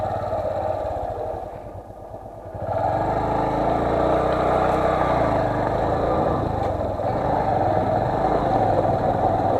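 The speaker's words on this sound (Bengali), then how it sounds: "দেখুন গাড়িটি পিছিয়ে পিছিয়ে আসছে।" A four-wheeler car reverses slowly down a rocky off-road track near Susunia hill in Bankura, its engine droning and rumbling steadily nearby, dipping briefly before holding firm to the end.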